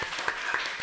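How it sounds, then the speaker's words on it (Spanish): Audience applause for a film's general producer at a school event, a steady, dense patter of clapping filling the room without pause. "Un aplauso por favor para Marco."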